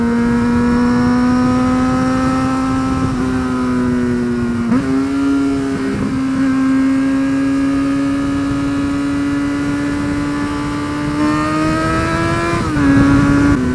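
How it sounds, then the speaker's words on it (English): A motorcycle ridden a gear low drones with a loud, sustained high-revving engine note that rises slowly and dips at gear changes, close and continuous with no talk. "you just keep it a gear low and make loads of noise everywhere."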